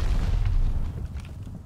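A deep, rumbling boom from a grenade explosion in Call of Duty: Vanguard, heavy low-end blast decaying over a second and a half, close and loud.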